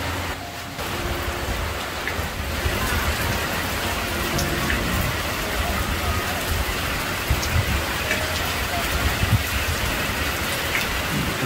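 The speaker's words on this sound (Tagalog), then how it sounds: "Lakas ng ulan." Heavy rain pours down steadily as a dense, loud hiss of drops drumming on surfaces, continuous and close, with no voices over it.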